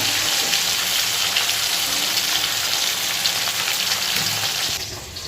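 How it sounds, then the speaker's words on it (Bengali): Sarputi fish sizzling in hot oil in a home kitchen, a loud, steady crackling fry that runs throughout with no talk, easing slightly near the end. "তা এখন মাছগুলো ভাজবো। চলো ভাজা শুরু করে দিই। তেল আমার গরম আছে,"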